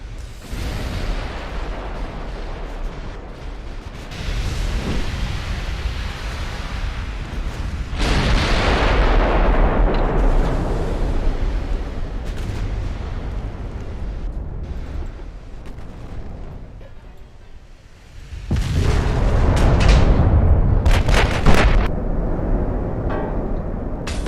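Secondary guns fire on a nearby destroyer during a World of Warships naval battle, giving repeated heavy booms and rumbling blasts in bursts with loud surges and brief lulls, no voices.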